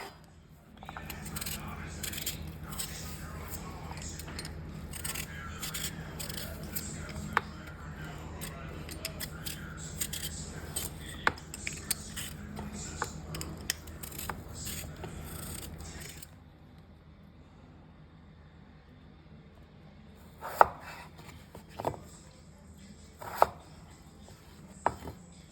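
A knife cutting and dicing vegetables for a veg korma, heard as a busy run of close clicks and scrapes on a board, then a quieter stretch with a few sharp isolated chops.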